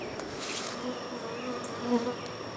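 Honey bees buzz steadily around their hive in July, a dense, continuous insect drone close by with individual bees whining past, with no talking over it.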